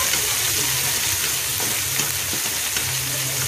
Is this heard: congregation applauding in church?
no